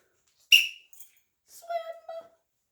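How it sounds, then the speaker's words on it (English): At a swimming camp, a short sharp whistle blast, followed a moment later by a longer warbling whistle tone that wavers before stopping. "I'll count to 3, and I'll blow my whistle"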